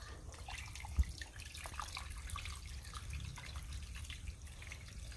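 Water runs and drips quietly as freshly cut fish are rinsed, a soft steady trickle with one sharp splash or knock near the start and no talking.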